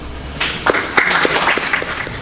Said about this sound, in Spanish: Para quien, por favor, un voto de aplausos.